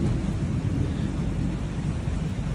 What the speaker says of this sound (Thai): ฟ้าร้องแล้ว